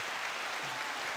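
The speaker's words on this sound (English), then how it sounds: "It's 9 second applause." Sustained applause from an audience, a dense, even wash of clapping that holds steady throughout at moderate, distant level with no talk over it.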